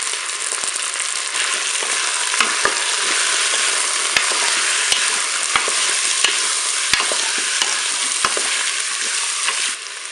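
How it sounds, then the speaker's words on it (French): Onion pieces frying in olive oil inside a Cookeo multicooker bowl, a loud, dense, unbroken sizzle with scattered sharp crackles and pops, close up and without speech. "on va verser l'huile d'olive dans la cuve. Il y a 4 minutes de fonction dorée, je vais ajouter les morceaux d'oignon"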